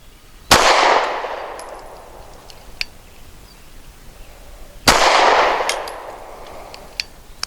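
Two sharp Walther PPS M2 pistol shots fired at a target, about four seconds apart, each a loud crack trailing into a long echoing decay, with faint clinks in between.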